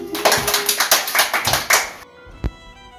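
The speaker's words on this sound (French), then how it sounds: "On applaudit!" Children and adults clap together at a Harry Potter themed birthday party, a quick run of loud rhythmic claps for about two seconds that stops abruptly, followed by near quiet and a single sharp knock.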